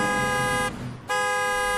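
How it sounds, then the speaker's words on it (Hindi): A loud, steady truck horn blast, briefly cut off in the middle and then resuming, sounding close by. "सूरज ने हॉर्न दिया और आगे बढ़ गया।"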